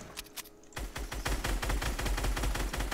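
Rapid automatic gunfire in Fortnite pounds at a mech in a dense, close burst of rattling shots after a brief scattered opening.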